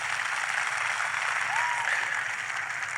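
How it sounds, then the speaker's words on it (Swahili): A church congregation applauds for Jesus, a loud, continuous wash of clapping that holds steady throughout, with faint voices mixed in. "Tumpe Yesu makofi ya kilo."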